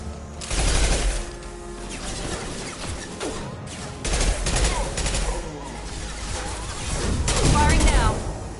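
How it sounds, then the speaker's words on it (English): Rapid automatic weapon fire and crashing impacts during a Mass Effect 2 battle, loud bursts rising and falling across the stretch while combat voices sound over them. "Taking fire."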